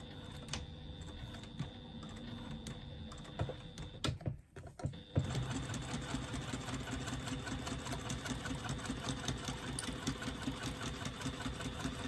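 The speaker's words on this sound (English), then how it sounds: "Stitching them all the way across using a 3/8 seam allowance." A sewing machine stitches lining panels for a retro clutch with a 3/8 inch seam allowance, running in steady rapid bursts with a brief pause midway, close and continuous with no talking.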